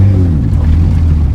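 Ford F150 Platinum with a 3.5 EcoBoost engine and MBRP exhaust, a steady deep exhaust rumble at close range with no voices.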